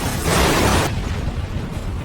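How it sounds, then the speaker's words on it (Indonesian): A loud, roaring burst of a car crash and explosion fills the first second, then drops to a lower rumbling aftermath. "kendaraan menjadi tidak stabil hingga akhirnya mengalami kecelakaan dan meledak"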